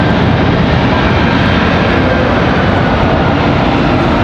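A loud, steady roar of a JetBlue airliner's jet engines on the ground at Raleigh-Durham International Airport fills the air, a broad continuous rumble and whine close by with no other sounds breaking through.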